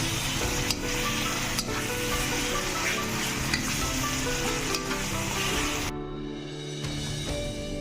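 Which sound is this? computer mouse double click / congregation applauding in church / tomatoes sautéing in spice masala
tomatoes sautéing in spice masala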